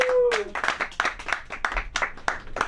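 Scattered applause and claps from the audience at a comedy show, starting under a voice on the mic and then carrying on alone as uneven bursts of clapping from a small room crowd.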